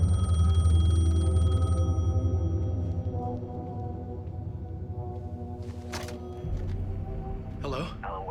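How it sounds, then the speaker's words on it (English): Phone ringing in the video game Alan Wake 2, a loud sustained electronic ring with steady tonal overtones that fades after a couple of seconds, followed by low rumbling ambience and a few short clicks. "phone was ringing."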